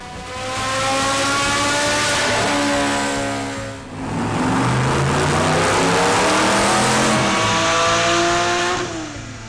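A performance car on a Dynojet dyno revs hard through rising gears, loud and close, a brief dip near the middle before climbing again to a high sustained roar.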